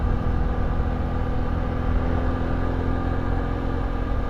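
TVS XL 100 heavy-duty moped engine accelerating, a steady close-up mid-pitched hum with rough rumble, loud and constant without pauses.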